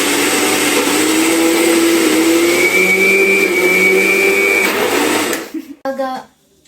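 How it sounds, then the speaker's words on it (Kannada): Electric grinder blending cumin and coriander seeds in a loud, continuous whir that shifts pitch a little as it runs, then stops abruptly near the end, followed by a brief clatter. "ಮತ್ತು ಜೀರಿಗೆ ಮತ್ತು ಕೊತ್ತಂಬರಿ ಹಾಕಿಕೊಳ್ಬೇಕು. ಹಾಕಿ ರುಬ್ಬಬೇಕು."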